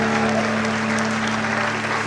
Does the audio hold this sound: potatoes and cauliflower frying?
no